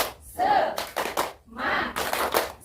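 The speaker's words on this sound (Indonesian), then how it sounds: "ibu-ibu bisa tepuk semangat dulu ya, biar lebih semangat untuk hari ini ya. Tepuk semangat" A group of mothers does a 'tepuk semangat' spirit clap, a few bursts of rhythmic clapping with short pauses between them, fairly close and loud.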